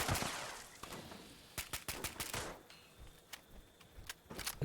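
Gunfire in the video game Fallout 76, with rapid sharp shots in irregular bursts, some close and loud and others fainter, and no talking.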